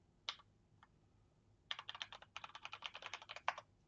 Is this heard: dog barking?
no